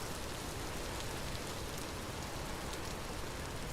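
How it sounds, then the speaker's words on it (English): Rainfall in the survival game Vintage Story, a constant soft wash of dense drops, steady and fairly faint, with no voices over it. "it's raining. As it so often is, I believe, in this biome."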